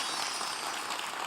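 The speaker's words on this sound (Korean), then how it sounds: "박수 한번 부탁드릴게요." Audience applause at a military speech contest for soldiers, a thick, steady burst of many hands clapping, loud and uninterrupted throughout the short stretch.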